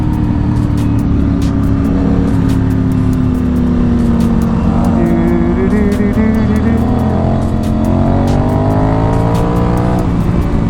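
A 2003 Honda RC51 motorcycle at speed on a race track gives a loud, continuous engine drone that rises and falls in pitch through gear changes, with steady wind roar and no break throughout.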